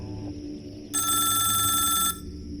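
A telephone rings with a bright, steady electronic trill for about a second, loud and close, over a low background hum.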